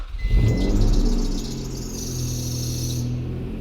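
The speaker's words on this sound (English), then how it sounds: "I get belt whine" A Honda NSX engine turns over on a cold start after a 100,000-mile service, a low rumble with a thin, steady belt whine riding above it, close by and with no talking.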